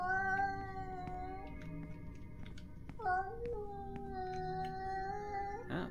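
Cat in the Yuppie Psycho video game meowing in long, drawn-out wails, two sustained caterwauls with a break between them, over a low background hum and a few faint clicks.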